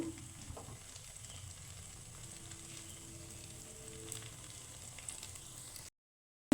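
Pitha sweets deep-frying in hot oil, a faint, even bubbling sizzle held steady for several seconds before cutting to silence, with no talk.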